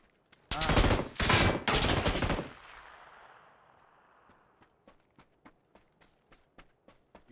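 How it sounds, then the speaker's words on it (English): Gunfire in the video game Squad: three loud, close heavy blasts with a trailing echo, then a long series of faint, distant single shots and footstep-like taps spaced out irregularly. "You're shooting at me from my building."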